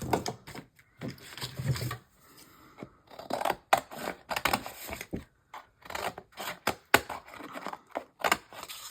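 Scissors cutting paper for a mixed media art journal, a series of close, crisp snips and rustles in irregular bursts, some quick and clustered, with brief pauses between, no talking.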